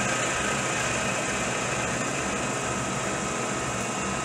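A lathe turns steadily at about 260 RPM while cutting the breech of a 1903 Rock Island Armory rifle barrel, giving a continuous, even machine hum with broadband whir and no talk.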